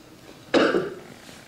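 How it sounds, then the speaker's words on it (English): One slight, short cough from a man at a debate, a single near burst trailing off quickly into quiet. "A slight cough."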